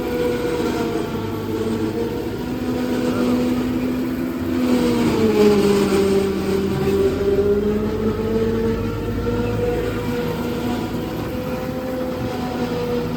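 A 90 HP tractor engine runs steadily nearby, a deep droning rumble with a strong harmonic hum that rises and dips slightly in pitch as it works, continuous throughout with no talking.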